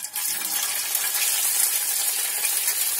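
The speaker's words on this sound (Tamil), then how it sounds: "இங்க எண்ணெய் சூடாயிடுச்சு, இப்ப நம்ம ஃப்ரை பண்ணி எடுத்துடலாம் சாபுதானா வடைய" Sabudana vada deep-fries in hot oil over a medium flame, giving a steady, close, bright sizzle and hiss with a continuous crackling texture. No other sound is heard.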